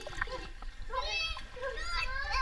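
A child jumps into a deep swimming pool, making a splashy burst of water over a steady wash of children's voices and poolside chatter.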